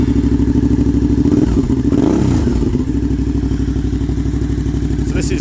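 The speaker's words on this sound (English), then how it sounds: "So this is the Black Widow system with the baffle removed." Suzuki V-Strom 650 fitted with a Black Widow exhaust system, baffle removed, idling loud and close with a steady, throbbing rumble, briefly blipped once before settling back to a rough, even idle.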